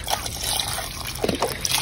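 Chicken broth is poured into a cooking pot in a brief, close, gurgling stream of liquid with a few small splashes, lasting under two seconds.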